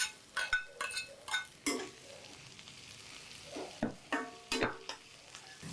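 Chilies and bitter beans fry in a pan with a soft sizzle beneath repeated scraping and stirring strokes, a spatula knocking and clinking against the pan in irregular bursts, close and fairly quiet.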